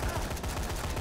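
Rapid gunfire in the video game Dead Rising 3, a dense burst of automatic shots that fills a brief moment, loud and close.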